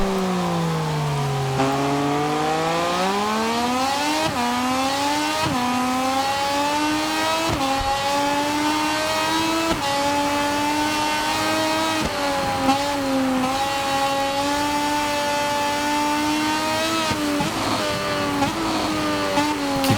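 A Moto2 racing motorcycle in the MotoGP 24 video game, its engine note sliding down and then climbing steadily as it eases into a corner at Misano, loud and continuous with brief gear-change dips and no talk.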